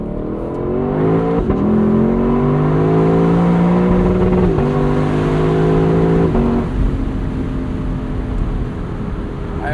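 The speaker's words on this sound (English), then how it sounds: "they got to hear an LC500 downshift," A 2025 Lexus LC 500 convertible with its V8 blips down through the gears on a rush-hour commute, the engine note stepping up sharply several times in quick succession, loud and close, then settling into a steady drone.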